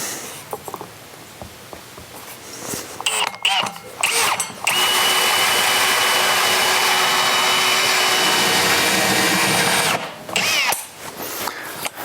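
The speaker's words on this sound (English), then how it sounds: "I'm going to put my drill on slow" A power drill on its slow setting whirs steadily at a low, even speed for several seconds, close up, cutting MDF, with brief stops and starts around it and some faint talking.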